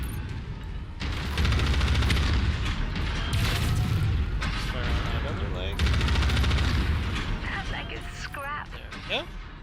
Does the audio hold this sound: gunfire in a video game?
yes